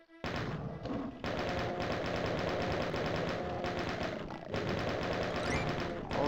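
The chain gun in the Doom video game fires a dense, continuous stream of rapid shots, loud and close, that runs almost without a break for several seconds over the game's clatter.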